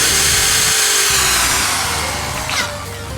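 A power drill clearing gunk from brick weep holes, a loud continuous whining grind close to the microphone that shifts slightly in pitch and eases off near the end.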